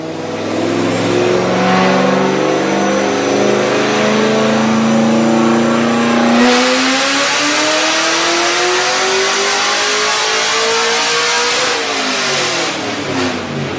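A supercharged car engine on a dyno roars loud and close, with sustained revving that climbs steadily in pitch. The engine drops briefly partway through, then pulls up again with no voices.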